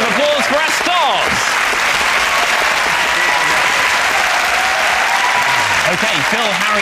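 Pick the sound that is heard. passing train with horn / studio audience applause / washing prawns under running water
studio audience applause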